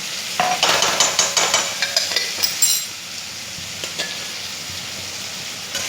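Pasta mixed with schezwan chutney frying in a pan, a bright sizzle with a burst of quick spatula clinks and scrapes early on, then a softer steady hiss with occasional taps.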